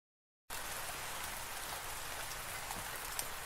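Steady rain falls and pours continuously without a break after a short silent start, a dense, even hiss with no voices or other sounds.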